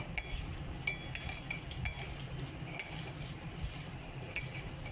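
Mourala fish being hand-mixed with onion, chilli powder, turmeric, salt and oil, giving soft wet squelching and light scraping with occasional faint clinks, fairly quiet and close, with no talking.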